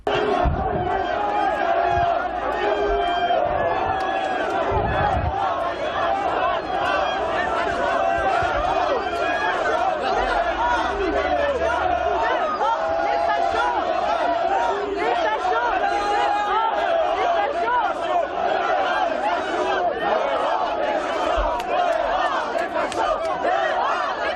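A large crowd on a Paris square boos and jeers protesters being escorted away by police, a dense, continuous roar of shouting voices throughout.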